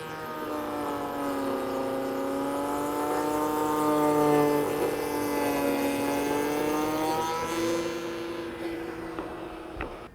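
A router motor whines steadily and loudly with a slight rising and falling pitch while cutting a 3/4 inch roundover along wood panels, the tone dropping away at the end.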